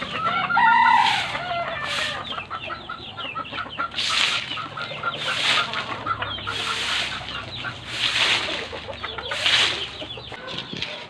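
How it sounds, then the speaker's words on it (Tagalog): Chickens cluck and squawk continuously nearby at a home in front of a house, while a rooster crows at the start and repeated bursts of sweeping or rustling come through. "Dami ditong manok oh"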